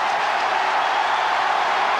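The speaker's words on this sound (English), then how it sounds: "First ball, and listen to the crowd." Stadium crowd roaring after a four struck off the first ball of India's innings against Kenya at the 1996 Cricket World Cup, a dense, steady, loud wash of cheering and noise throughout.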